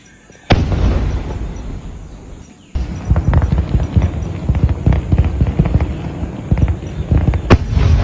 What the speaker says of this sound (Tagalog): Fireworks nila. Talagang parang kulog